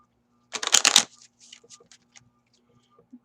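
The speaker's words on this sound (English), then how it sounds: "first I'll shuffle them" Lenormand cards shuffled in a parlor, a loud dense riffle of card flicks for about half a second, then a scatter of softer taps and slides as the deck settles.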